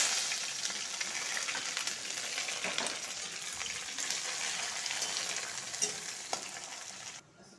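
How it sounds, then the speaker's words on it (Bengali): Onion frying with bay leaf and panch phoron in hot oil, a steady, fairly quiet sizzle running throughout with occasional stirring scrapes, no voices, cutting off near the end. "তেজপাতা ধুয়ে দেবো আর পাঁচফোড়ন পেঁয়াজটা ভাজবো"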